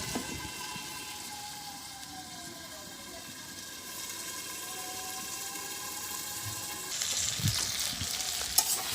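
Potatoes frying in a covered pan, a soft steady sizzle heard close but faint, with a brief clatter near the end, no voices.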